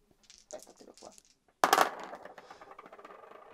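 Dice clatter as they are thrown onto a table during an Imperial Assault: Legends of the Alliance board game, a sharp rattling burst after some soft handling noises, with faint sounds continuing after.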